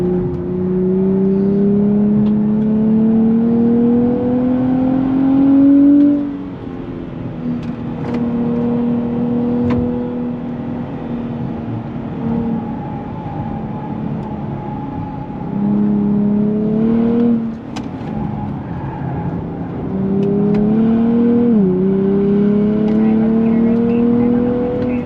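A 2023 Nissan Z Performance engine revs loudly and drops through smooth downshifts, its pitch falling and rising again in steady cabin drone over about 25 seconds.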